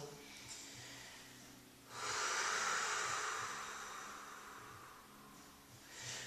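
A deep, slow breath drawn in during a Pilates exercise, a long airy inhale swelling up close, then easing out, with a softer breath starting near the end.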